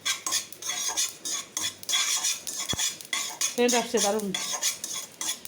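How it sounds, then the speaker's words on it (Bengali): A pot of food boiling on the stove while a utensil scrapes and clinks against it in a steady stirring rhythm, close, with a brief spoken remark partway through. "এটা ফুটতেছে, এখন হয়ে যাবে"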